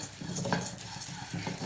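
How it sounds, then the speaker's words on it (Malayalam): Rice roasting in a pan for traditional Kerala ari unda, stirred steadily with soft scraping and a light continuous sizzle, close and moderately quiet, with no talking. "അടുത്ത ബാച്ച് അരിയും നമുക്ക് ഇതുപോലെ തന്നെ വറുത്തെടുക്കാം."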